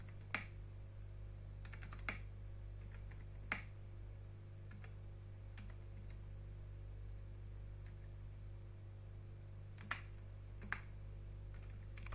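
Scattered single keypresses on a computer keyboard while entering numbers into an Excel rank sheet, about eight distinct clicks spread irregularly over low mains hum, quiet and close with no talking.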